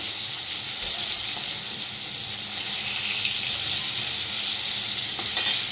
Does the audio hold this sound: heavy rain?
no